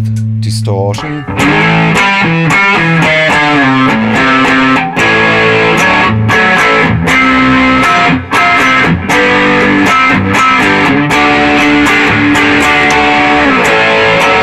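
Distorted Höfner Verythin electric guitar chugging through heavy, crunchy chords with sharp rhythmic accents, loud and continuous.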